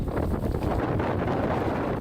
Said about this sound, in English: Winds gusting up to 70 miles per hour.